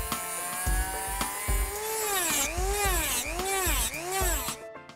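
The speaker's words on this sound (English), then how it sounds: "With the decoy now shaped, Rick starts to grind in the details. The face, the gills" A power tool grinds details into a white pine fish decoy. A high whine rises and falls in repeated swoops as the bit bites into the wood, with low knocking bumps underneath, close and steady.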